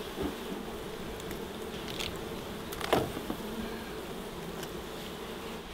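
A dense swarm of honey bees from a wild hive in a kitchen cupboard buzzes continuously nearby, with a few scattered clicks and one louder knock.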